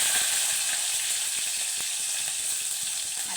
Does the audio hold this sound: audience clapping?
no